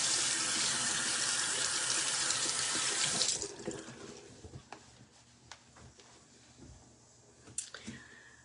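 A tap runs loudly for about three seconds while a face mask is washed off, then shuts off, leaving faint drips, soft clicks and small handling sounds close by.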